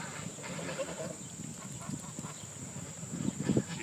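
Sheep in a pasture bleating in a few short calls over a steady high whine and soft outdoor rumble, fairly near, with a louder cluster toward the end.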